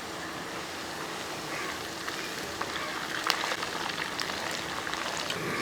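Cashews, raisins and curry leaves fry in hot oil for chicken fried rice, giving a soft, steady sizzle and crackle that thickens a little toward the end, with no talking.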